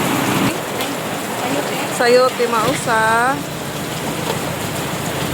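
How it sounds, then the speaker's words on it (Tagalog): Heavy rain drumming steadily on a surface, a dense hiss throughout, with a couple of people briefly talking over it. "Ang lakas ng ulan."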